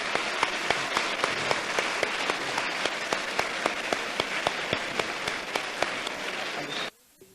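A church congregation applauds its standing choir members with steady, dense clapping throughout, a few sharper claps popping out, then the applause cuts off abruptly near the end.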